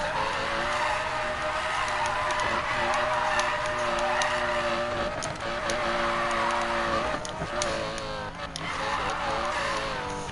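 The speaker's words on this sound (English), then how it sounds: "I hate the sound of Lambos." A Lamborghini's high-pitched engine roars continuously and loudly, with tire squeal and skidding as the car drifts, rising and falling in intensity over about ten seconds.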